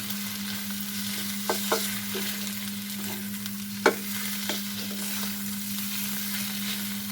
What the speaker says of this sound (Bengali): ভালোভাবে ডিমটাকে মিক্সড করে নেব